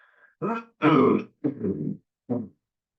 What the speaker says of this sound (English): just post nasal drip like in my throat, like just constantly making me clear my throat